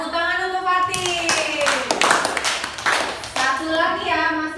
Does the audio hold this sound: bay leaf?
no